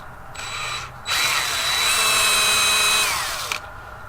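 A power drill drives a screw into a wooden chicken coop door: a short whirring burst, a brief pause, then a longer, steady high-pitched run that winds down. The drill is loud and close, with no talking over it.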